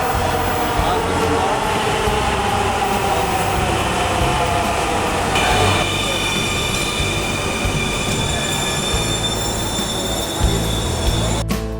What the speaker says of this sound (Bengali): অবশেষে আমাদের মেট্রো রেলটি চলে এসে পড়েছে